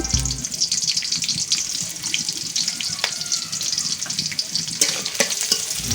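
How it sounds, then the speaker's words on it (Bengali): Chopped onions sizzle and crackle in hot oil in a wok, a steady bright frying hiss with occasional pops and stirring scrapes, close and without talk. "পেঁয়াজ কুচিটা কিছুক্ষণ ভেজে নেব।"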